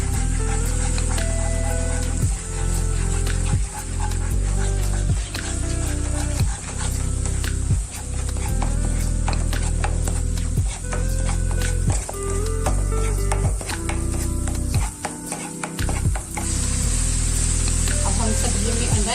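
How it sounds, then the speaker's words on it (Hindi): Egg stirred into vegetables in a hot pan over high heat for Chinese fried rice, a steady sizzle broken by repeated rhythmic scraping strokes of a spatula, close and loud, with some background music. "सब्जियों में अंडा ऐड करने लगे हैं। इसको अच्छी तरह से मिक्स करेंगे।"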